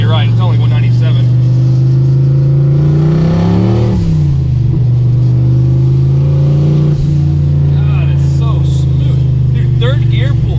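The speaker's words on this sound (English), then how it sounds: "Third gear pulls so much harder, especially up top." Turbocharged 1986 Mustang on Microsquirt tuning accelerating hard in third gear, a loud steady engine drone rising in pitch with boost, heard from inside the car alongside talk.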